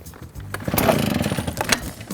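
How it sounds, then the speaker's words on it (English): Husqvarna two-stroke leaf blower starting up and running close by, a rough buzzing engine note that picks up and revs unevenly over a couple of seconds. "I've got my trusty Husqvarna leaf blower here. I'm gonna fire it up"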